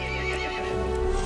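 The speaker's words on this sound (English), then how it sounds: "The horse grew angry and summoned the other monsters." An angry horse neighs in the video game Resident Evil Village, a loud whinny that rings out over a dense, droning game score and continues for the whole short span.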